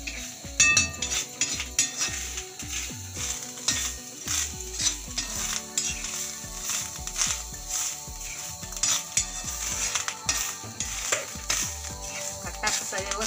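Malvani-style masala for Konkani egg curry roasting in a pan, with steady stirring, scraping and clinks of a spoon against metal over a low sizzle, close up and busy throughout.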